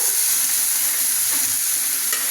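Boiled mixed vegetables with chicken liver sizzle and fry in a pan while being stirred, a continuous close hiss with faint scraping.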